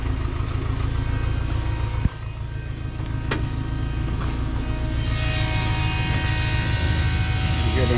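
A turbocharged Honda D16Z6 engine in a Del Sol, fueled partly with E85 and running slightly rich, idles with a steady low rumble and buzzing drone. A sharp click and a brief tick sound through it, and some talk accompanies it.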